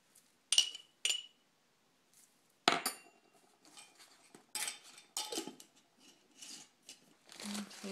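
A tablespoon clinks against a jar or bowl while dried chamomile is measured out for an herbal cold and flu tea, giving a few sharp, separate metallic taps and light rattles close by, with soft handling noises between them.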